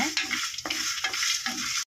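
Coriander seeds, masala spices and coconut lightly frying for a fish curry, stirred in rhythmic strokes, about four scraping sweeps over a soft steady sizzle, close and alone.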